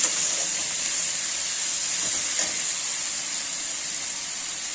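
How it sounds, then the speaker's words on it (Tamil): Tomatoes sauté for mutton keema in a pan, giving a steady close sizzle and bright hiss that holds evenly throughout with no talking. "இப்போ தக்காளி ஒரு 2 தக்காளி, சின்னதாக இருந்தால் 3 தக்காளி போட்டுக்கோங்க. இது கூட நல்லா வதங்கட்டும்."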